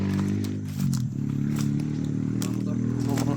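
A motorcycle engine runs steadily close by, a low droning hum with some light clattering on top, and it holds at an even level throughout.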